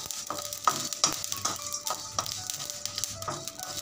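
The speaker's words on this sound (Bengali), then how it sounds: "আমি এখন দিয়ে দিচ্ছি মৌরি, শাহজিরা আর লবঙ্গ। সমস্ত উপকরণগুলো আমি ভালো করে নেড়ে নেব।" Fennel, shahjeera and cloves stirred in a pan with the gas off, a soft steady sizzle broken by quick light scrapes and taps of the spoon against the metal, no talking.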